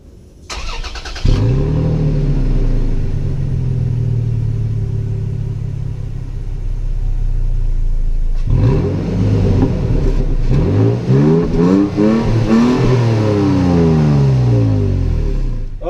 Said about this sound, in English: Okay, the truck is started.